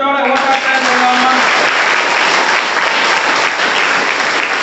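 Loud, sustained applause from an audience at a college event, with a brief spoken voice at the start before the clapping builds to a full, continuous sound from many hands.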